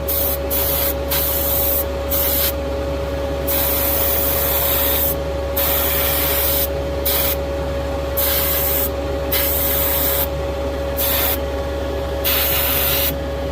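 Paint spray gun laying a light tack coat on a 1969 Dodge Charger R/T, repeated loud hissing bursts of a few seconds each broken by short pauses, close by over a steady hum.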